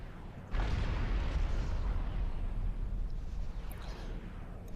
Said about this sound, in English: Ruffle King's noticed that recycler and is instantly trying to bomb it to death